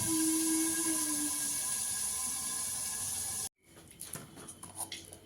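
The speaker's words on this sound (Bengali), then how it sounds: "আলুগুলোকে একটু লাল করে ভেজে নেব" Potatoes frying in oil with turmeric for a fish kalia give off a continuous, fairly loud hiss that cuts off abruptly, followed by faint scattered clatter and rustle.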